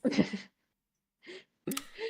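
A single sneeze bursts out sharply, followed after a pause by a couple of short, soft vocal sounds.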